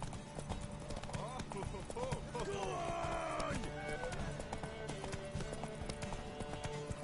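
Horse hooves galloping in The Witcher video game, a steady clip-clop of running hooves throughout, heard quietly beneath game dialogue and music-like tones.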